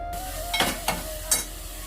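Grated coconut roasting in ghee for a sweet modak filling, a soft sizzle under three short stirring scrapes of a spoon in the pan.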